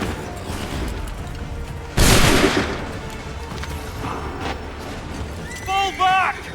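Soldiers fire a musket volley in Assassin's Creed 3: one loud, crackling blast erupts and rolls off, followed by a lower din of battle and brief shouting voices near the end.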